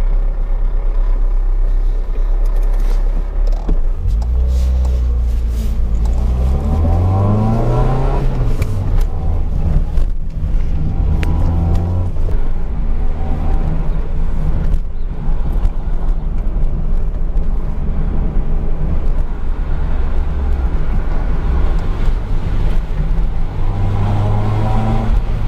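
Car engine droning steadily from inside a moving vehicle, a low continuous rumble with rising and falling pitch as it accelerates and shifts, constant road noise underneath throughout.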